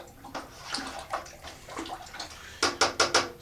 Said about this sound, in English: I stir the dye bath up to dissolve the dye